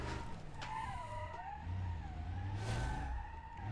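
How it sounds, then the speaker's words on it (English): Engine revving and tyres sliding as a car is floored in the BeamNG.drive driving game, its back end stepping out; a steady, loud motor drone with rising and falling pitch runs throughout. "As soon as I floor it, it's just going to slide the back out."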